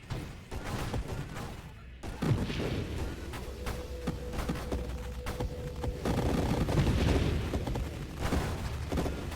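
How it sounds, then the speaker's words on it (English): Multi-segmented enemies being torn apart by a black hole in the space roguelike Nova Drift, a dense run of rapid crackling, thudding impacts and bursts over a steady low rumble, with a brief sustained tone in the middle. "I love listening to the multi-sectional enemies getting ripped apart by a black hole"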